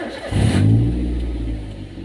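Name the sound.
used car engine starting and revving during inspection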